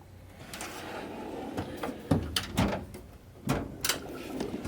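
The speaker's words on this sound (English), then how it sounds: "Pneumatics drawer." A metal toolbox drawer holding pneumatic impact sockets slides and rattles in a shop, with several short scraping rolls and clanks in quick succession, close and moderately loud.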